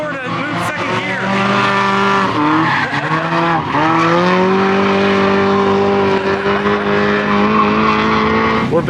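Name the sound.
Mazda Miata drifting with tire squeal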